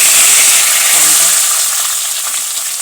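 Mustard seeds, cumin and curry leaves hitting hot oil for a potato bhaji tempering: a loud, dense hissing sizzle right up close that slowly eases off, with no talking.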